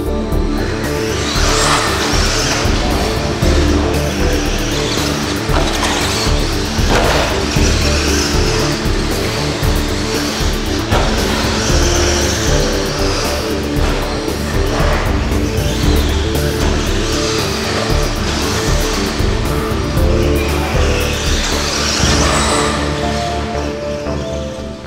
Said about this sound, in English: Behold the massive 27-turn brushed power.